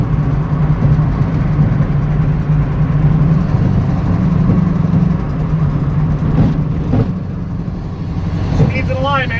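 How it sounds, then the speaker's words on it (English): A 1965 Ford Mustang Fastback's engine runs loud and close on its first drive, a continuous low rumbling drone with steady road noise throughout. "First drive in the 1965 Fastback."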